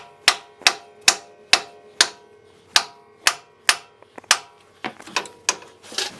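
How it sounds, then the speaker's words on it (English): A hammer strikes a Jeep steering knuckle forging with sharp, ringing metallic blows, about nine evenly spaced hits, then a few quicker, lighter knocks and clinks close by. "That bottom broke loose with a couple of wraps from the hammer"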